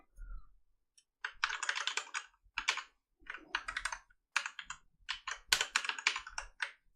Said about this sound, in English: And type a message.